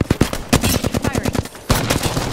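Rapid automatic gunfire in the video game Apex Legends, dense bursts of loud shots with a brief pause, then firing resumes, close and continuous.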